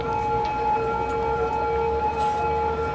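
An ambulance siren in the city-building game Cities Skylines wails as steady sustained tones that hold throughout over a constant background hum.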